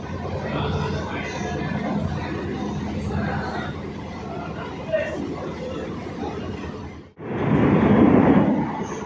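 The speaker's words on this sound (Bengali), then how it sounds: "ছুটে চলেছে আমাদের এই এসি লোকাল ট্রেন" AC local train on the Sealdah to Ranaghat line running after rain, a steady rumbling rattle of wheels and carriage interior with passengers chattering, briefly dropping out before a louder roar returns near the end.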